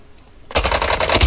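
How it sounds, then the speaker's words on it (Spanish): Gunfire in a multiplayer video game breaks out after a quiet moment, a loud rapid burst of automatic shots rattling steadily to the end. "Están disparando"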